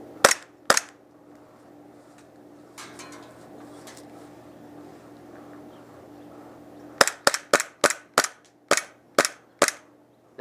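Sharp snapping shots from a KSC Glock 19 gas blowback airsoft pistol: two quick cracks, a pause, then a rapid string of about nine loud close reports with a faint hiss between.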